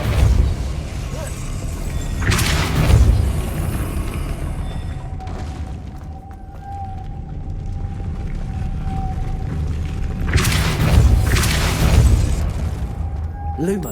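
The Depulso spell is cast in a Hogwarts video game: two booming, whooshing bursts several seconds apart, with a faint sustained tone and low rumble between them.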